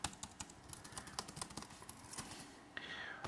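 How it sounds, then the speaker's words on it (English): Rapid, light key clicks from a Jelly Comb Bluetooth folding keyboard with a semi-hard plastic case, typed in quick bursts at close range and fairly quiet, ending with a brief steady hiss. "I can open it up and I can start typing again"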